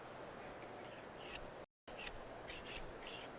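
A scraper blade works under floor marking tape, giving a dry rasping scrape in a few short strokes, close and fairly quiet, with a brief gap midway.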